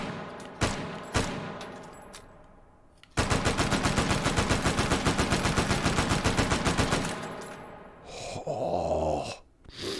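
A Sten submachine gun fires in the VR shooter Hot Dogs, Horseshoes & Hand Grenades, first a few single loud shots, then a sustained rapid automatic burst of about five seconds, followed by mechanical clatter and a voice-like groan.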